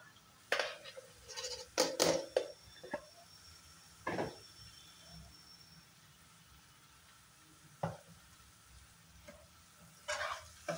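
Onion, ginger and green chilli paste fries in a wok with a faint, low sizzle, broken by a few sharp stirring clinks and scrapes spaced irregularly, with no talk.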